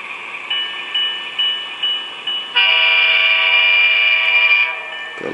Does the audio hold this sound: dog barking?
no